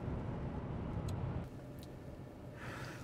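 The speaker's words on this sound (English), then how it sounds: "engine noise, road noise, wind noise, other car noise, all tends to be in this low frequency" A truck cruising at highway speed, around 65 miles an hour, heard from inside the cab: a steady low rumble of engine, tyre and wind noise that drops slightly partway through and continues evenly.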